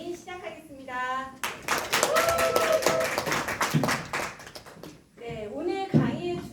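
Audience applause opening a lecture on nutrition and healthy living, a burst of dense, steady clapping in the middle, with a voice speaking just before and after it.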